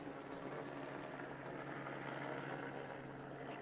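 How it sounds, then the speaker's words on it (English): A continuous whirring rotor drone fills the air, steady and broadband, like a helicopter hovering or passing overhead during a protest in Los Angeles, with no voices. "Now they want the helicopter so they don't hear us when we talk."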